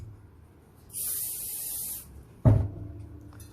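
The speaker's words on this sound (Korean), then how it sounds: "스프레이를 뿌릴 때는 20cm, 30cm 떨어져서 뿌리시고" Hairspray hisses from an aerosol can onto an upstyle hairdo in one steady burst of about a second, close and alone, followed by a brief thump of handling.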